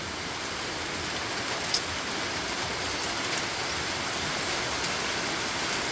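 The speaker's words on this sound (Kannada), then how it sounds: "ನೋಡ್ತಾ ಇದ್ರಲ್ಲ, ಹೆವಿ ಮಳೆ." Heavy rain pours steadily in the Coorg hills, a dense, even hiss that holds at one level from start to finish with no pauses or voices.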